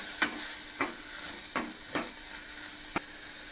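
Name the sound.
sautéing tomatoes in pan for dried fish curry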